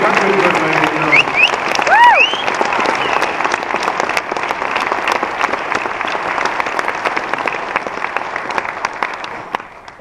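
Loud audience applause fills a stand-up comedy show in Brandon, Manitoba, dense steady clapping from a crowd that carries on for several seconds with a few whistles early on before slowly thinning out.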